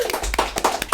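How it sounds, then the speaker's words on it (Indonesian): Short burst of audience applause in a casual Indonesian podcast studio, a few sharp hand claps and taps, fairly close and brief, without talk over it. "Tepuk tangan semuanya."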